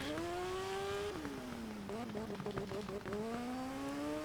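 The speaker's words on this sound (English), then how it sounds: "The engine sounds so good." A racing motorcycle engine in the Isle of Man TT video game holds a steady, loud drone that rises through the gears, with pitch shifts and brief dips as it changes gear. It is heard up close, with faint talk underneath.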